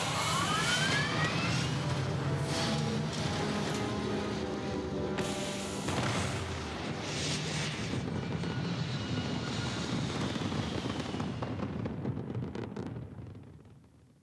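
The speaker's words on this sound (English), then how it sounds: "Take off. We have liftoff." Spaceship liftoff in the Starfield video game: a loud, sustained engine roar that holds steady for most of the span, with whooshing bursts layered over it, before tapering off at the end.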